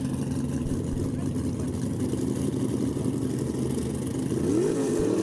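The Boogeyman Chevy 2 gasser drag car races with the Southeast Gassers at Knoxville, Tennessee, its engine droning loud and steady with a rising rev near the end, under a commentator's voice.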